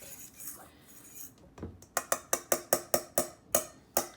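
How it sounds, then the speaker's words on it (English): A fork scrapes and clinks rhythmically against a bowl while dry ingredients for a plant-based protein recipe are mixed, with a quick series of about ten sharp, close taps and clicks after some softer stirring. "So I'm just gonna mix that together with my fork."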